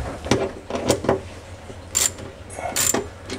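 Stainless steel quarter-20 bolts are tightened with a hand ratchet beneath an undermount sink on granite, giving several short clicking bursts in uneven groups, fairly close and with no talking.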